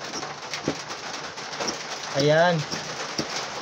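Rain falls outside a tailoring workspace, a steady broadband hiss from the drops running under the whole moment, with someone talking over it and a few short taps nearby.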